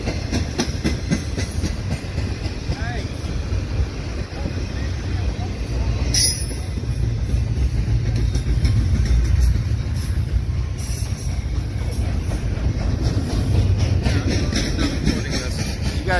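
A CSX intermodal freight train rumbles past nearby in Euclid, Ohio, with continuous rolling noise, rhythmic wheel clatter and occasional metallic squeals, loud and sustained throughout.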